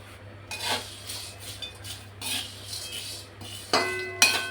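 Whole spices with nutmeg and mace dry-roasting in a pan over medium heat, heard mostly as a spoon scraping and clinking against the metal in short irregular bursts, with only faint sizzle.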